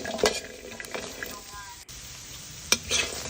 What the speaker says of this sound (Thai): คั่วไปเรื่อย ๆก็มาหอมนี่ก็คั่วนะคะ ใช้ไฟ ค่อนข้างอ่อนค่ะ